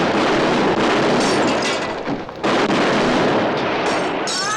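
Film gunfire from Conquest of the Planet of the Apes: a dense, loud, continuous barrage of shots and explosions that fills the whole stretch, dipping only briefly midway.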